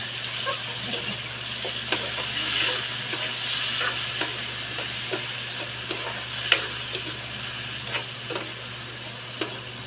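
Onion, garlic, tomato and chili sizzle and get stirred in a pan, a steady frying hiss under scattered soft scrapes and taps of the utensil, moderately faint with no voices.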